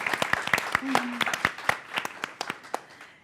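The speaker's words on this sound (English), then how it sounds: "And we need a big round of applause." Scattered, fairly sparse clapping from an audience at a college anniversary event, individual claps distinct and somewhat distant, with a brief voice or tone partway through.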